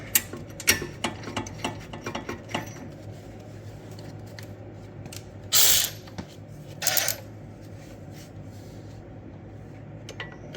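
Wrench ratcheting brake caliper bolts tight on a 2017 Kia Soul, a quick run of metallic clicks early on, then two short scraping bursts, close and fairly quiet over a low background hum.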